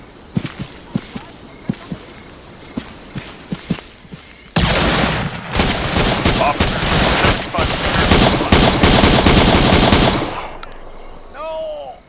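Gunfire erupts in an Arma 3 Vietnam War mod firefight: scattered single shots first, then loud, sustained automatic bursts and overlapping volleys for several seconds before cutting off, with shouted voices around it.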